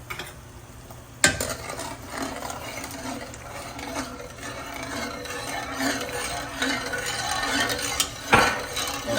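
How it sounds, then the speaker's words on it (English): A spoon stirs Jamaican cornmeal porridge in a pot, giving a continuous wet scraping and clinking against the pot with a couple of sharper knocks. "You have to stir your cornmeal"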